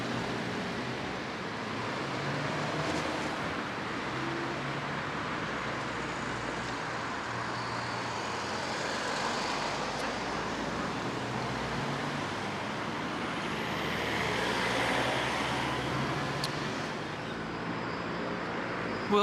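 Replacement train buses and general road traffic at Blackburn station, a continuous faint wash of engines and tyre noise with passing vehicles swelling and fading, distant and without talk.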